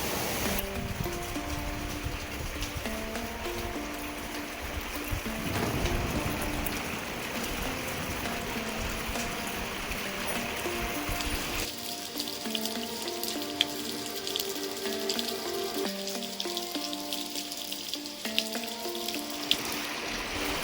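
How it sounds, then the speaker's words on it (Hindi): Heavy monsoon rain pours in the Uttarakhand mountains, a dense continuous rush of water with running runoff, steady and fairly close, with no voices. "बारिश में बिल्कुल भी कमी नहीं है, बारिश कंटिन्यू चली जा रही है"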